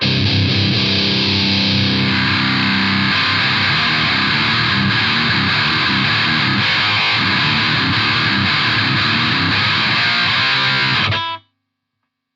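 Heavily distorted electric guitar played through a Hotone Skyline pedal, a dense, buzzing wall of chords that runs for about eleven seconds and then stops abruptly.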